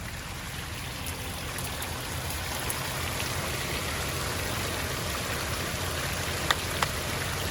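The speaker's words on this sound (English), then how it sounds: "Waterfall." Rushing water from a waterfall in the Dwellingup forest after rain, a steady, unbroken roar that holds at an even level throughout, fairly close, with only a couple of faint ticks and no voices.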